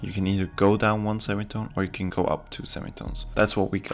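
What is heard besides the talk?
No everyday noises stand out.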